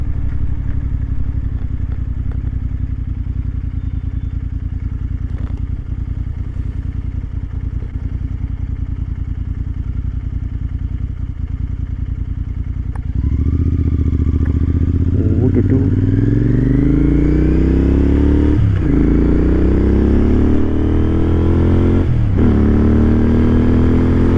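Royal Enfield GT 650 motorcycle riding loud and close, engine steady at first, then quick upshifts with a rising rev sweep after each gear change, three or four shifts in a row.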